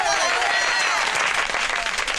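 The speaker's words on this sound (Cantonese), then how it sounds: "大家俾啲掌聲！" A crowd of neighbours claps in welcome for an arriving magistrate at a lively street gathering: dense, close applause that stays loud and even throughout, with voices mixed in.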